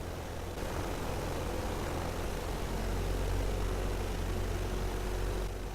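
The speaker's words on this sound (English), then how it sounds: "Listen to the engines." Airship engines in the video game Worlds Adrift give a steady, loud, low droning hum that holds unbroken throughout, with no voices over it.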